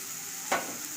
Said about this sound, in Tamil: கேப்சிகம் வதக்கின உடனே இப்போது மசாலாலாம் போட்டுக்கலாம்.